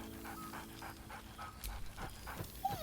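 A dog in Baldur's Gate 3 pants rhythmically in quick, breathy bursts close by, with a thin whine rising near the end.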